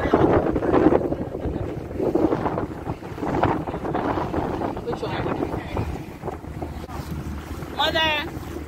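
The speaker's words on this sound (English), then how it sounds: "We're on a boat ride." Boat moving over water with wind buffeting the microphone and splashing waves, while people talk and laugh over the engine and water noise.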